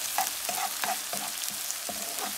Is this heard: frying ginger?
yes